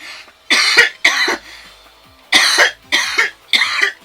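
Five harsh, chesty coughs in close succession, loud and near, separated by short silent pauses, with no talking over them.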